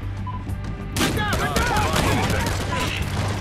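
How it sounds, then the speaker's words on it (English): Gunshots from the video game Battlefield Hardline, with a rapid, loud stream of spammed shots starting abruptly and continuing densely under game sound effects and a speaking voice. "Maybe I should stop spamming the shots."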